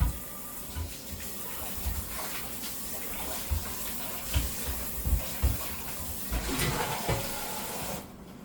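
A pan rinsed under a running kitchen tap: a steady hiss of flowing water with irregular splashes and clunks as the pan is moved, close up, ending abruptly.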